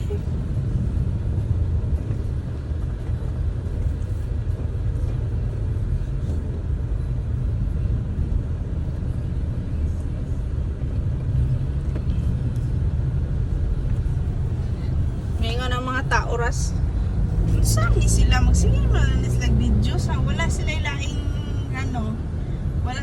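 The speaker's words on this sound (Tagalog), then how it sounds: "Grabe ang traffic." Low, steady road rumble fills the cabin of a vehicle stuck in heavy traffic and carries on throughout. Voices talk over it in the latter part.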